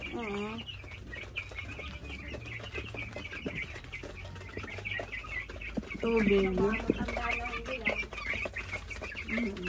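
Chickens cluck and a rooster calls nearby among chirping birds, with a person speaking briefly over the farmyard noise.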